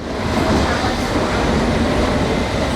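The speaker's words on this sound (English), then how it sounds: "For those that work on the London Underground system, the sounds that surround them every day" Loud, continuous roar of a London Underground train in motion, a dense rumbling rush with rattling that fills the whole clip without a break.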